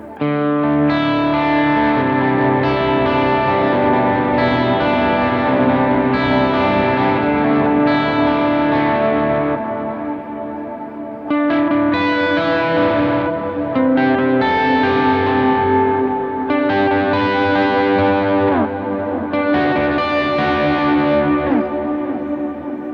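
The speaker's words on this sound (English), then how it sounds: "So that right there is your modulated reverb" Electric guitar chords played through a Jet Pedals Revelation modulated reverb pedal ring out in a shimmering, wavering reverb, notes swelling and washing into each other in two long strummed phrases.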